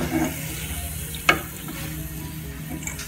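Mini sausages frying in hot oil give a steady crackling sizzle, broken once by a brief sharp clatter, with no voices.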